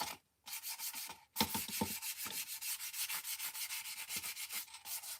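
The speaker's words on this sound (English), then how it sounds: "Like maybe I need to sand the edge a little bit." Steady back-and-forth sanding strokes rub across the painted edge of a wooden craft project, a rhythmic scratchy hiss repeating close and clear after a brief pause.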